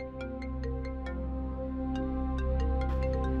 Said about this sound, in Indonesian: ini handphone kamu bunyi terus